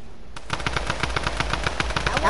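Rapid automatic gunfire in a PS4 online shooter game, a dense run of loud, evenly spaced bursts after a short quiet start, with no talk over it.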